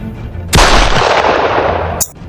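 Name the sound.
gunfire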